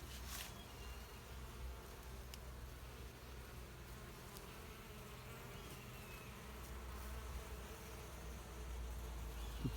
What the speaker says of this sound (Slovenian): danes pa opažam, da kar mrgoli precej čebel gor